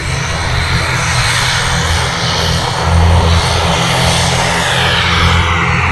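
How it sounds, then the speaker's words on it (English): A noisy Loganair light aircraft drones overhead on its way toward Kirkwall, a steady broad engine roar that swells slightly louder partway through, heard alone without talk. "It's that very, very noisy Loganair."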